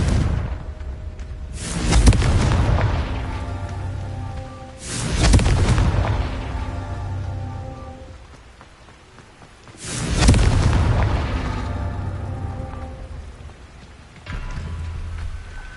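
Confringo spell explosions in the Hogwarts Legacy video game: a series of heavy, booming blasts, each with a long rumbling tail, spaced a few seconds apart and heard alone with no talking.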